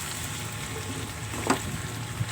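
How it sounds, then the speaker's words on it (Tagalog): Okra being sautéed for okra and string bean adobo gives a soft, steady low sizzle with a brief clink of a utensil midway, quiet and continuous with no talking. "Igisa din natin yung ating okra guys."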